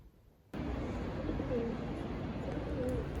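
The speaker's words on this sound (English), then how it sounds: "I like watching the pigeons fly through the street." Pigeons coo on a Glasgow street on a cool morning, two soft, low coos rising out of steady outdoor street noise.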